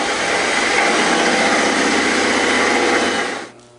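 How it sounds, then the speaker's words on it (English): A power drill with a 5/16 bit runs steadily at full speed, loud and close, drilling holes in a truck door, for a few seconds, then winds down and stops. "Using a 5/16 drill bit, we're going to drill out the holes for the mounting bracket"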